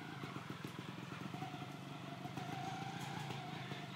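A GasGas 300 Pro two-stroke trials motorcycle putters and chugs in uneven pulses, faint and somewhat distant, with outdoor background noise throughout.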